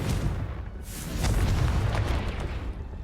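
The Confringo fire spell explodes in the Hogwarts Legacy video game, a deep booming blast with crackling bursts that rumbles on for a few seconds.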